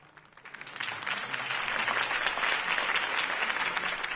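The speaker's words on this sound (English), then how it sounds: "could have heard that applause" Video game crowd applause after a campaign speech, swelling up from quiet to a full, steady roar of clapping that keeps going at a loud level.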